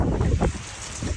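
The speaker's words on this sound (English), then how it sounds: "Oh my God, the wind is crazy. Rain is crazy." Hurricane wind and rain in Florida during Hurricane Milton, a steady roaring buffet of gusts battering the microphone, loud and close, with no voices.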